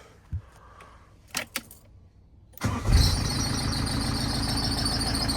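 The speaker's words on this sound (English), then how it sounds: "Bit of a squeak on the fan belt there, but it soon goes" Engine of a converted ex-police van with a squeaky fan belt, heard cranking and catching after a few clicks and key sounds, then settling into a loud steady run.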